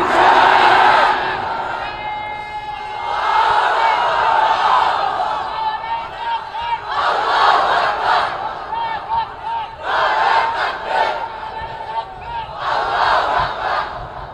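A large crowd chanting Allahu Akbar and Nara-e-Takbir at a religious gathering, loud massed voices rising in repeated surges with brief pauses between calls.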